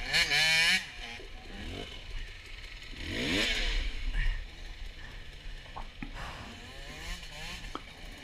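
An enduro dirt bike racing in an off-road event, its engine rising and falling through revs, loud and close with rattling clatter over rough ground, and no talk.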